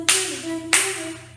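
Two sharp hand claps a little over half a second apart, then the start of a third, struck deliberately off the beat of a song. Each clap rings on briefly in a small room.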